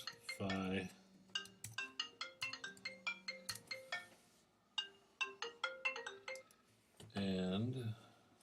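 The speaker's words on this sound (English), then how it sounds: "the phone was ringing" A telephone ringtone plays a melodic series of short electronic tones in repeated bursts, with a brief pause between phrases, while a voice speaks at the start and again at the end.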